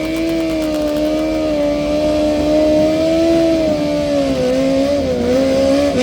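A motorcycle engine revs hard at the Tarumã racetrack during a night motorbike event, a loud sustained whine rising and dipping in pitch over several seconds with no talking.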